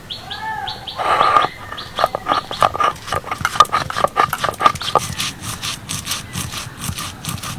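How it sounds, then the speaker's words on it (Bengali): Ginger, garlic, dried chillies and cumin ground together into a spice paste on a stone, a steady run of rough scraping and rubbing strokes, close and fairly loud, with a few chirpy squeaks early on and no talk. "এবার এই সমস্ত উপকরণগুলো আমি একসাথে বেটে নেব।"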